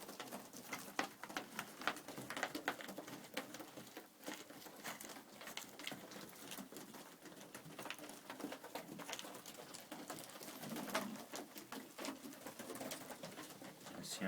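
Texan pigeons in a loft, with soft cooing and bird calls over a steady flutter and patter of wings and movement, continuous and close throughout.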